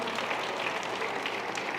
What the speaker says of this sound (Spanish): Dele una palabra, un aplauso a esta palabra